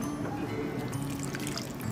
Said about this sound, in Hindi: इसमें थोड़ा सा पानी ऐड करूँगी मैं